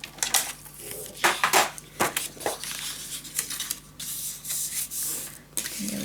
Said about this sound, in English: we need to score 1/2 inch alongside